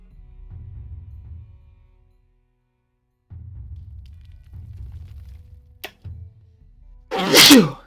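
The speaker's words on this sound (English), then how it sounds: "Excuse me, just sneeze there." A single loud sneeze bursts out near the end, close and sharp, after stretches of low rumbling background noise.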